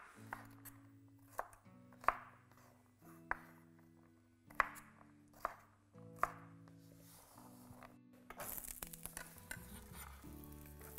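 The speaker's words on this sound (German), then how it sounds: "Ca. 3 cm Länge schneiden." Green beans being cut into roughly 3 cm lengths with a knife on a board for a vegetable curry: about seven crisp, spaced chops, then a soft sizzle of frying takes over near the end, all quiet and close.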